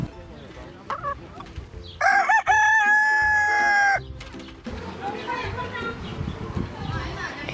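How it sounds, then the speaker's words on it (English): A Polish bantam chicken at a petting zoo clucks, then lets out a loud, close crow lasting about two seconds, while people chat nearby before and after. "That's a Polish bantam."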